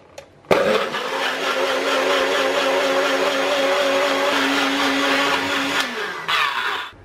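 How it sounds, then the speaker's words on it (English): An electric blender whirs loudly and steadily for about five seconds, mixing a keto berry breakfast shake. A sharp start and short motor sounds at either end frame the run, and no one speaks. "Let's blend up a smoothie."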